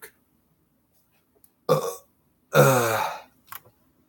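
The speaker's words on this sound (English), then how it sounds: "I'm sad for that burp." A person lets out burps, first a short one, then a longer, louder, rumbling burp close to the microphone, followed by a small throaty sound in an otherwise quiet room.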